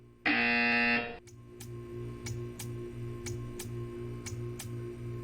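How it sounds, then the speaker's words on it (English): A loud, steady electronic buzzer in the video game Portal 2 blares for about a second, then stops, leaving a quiet room with faint regular ticking. "You will hear a buzzer."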